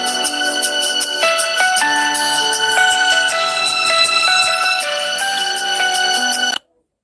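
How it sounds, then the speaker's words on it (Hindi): A loud melodic phone ringtone plays alone for several seconds, a bright electronic tune of stepping tones that cuts off abruptly into silence. "फोन आ रहा है"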